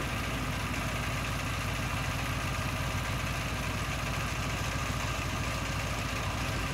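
A steel motorboat's engine runs at speed on a river trip to Lalakhal near Sylhet, a steady close droning hum with a low throb that holds unbroken throughout, with no voices.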